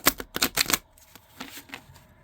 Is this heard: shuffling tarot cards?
yes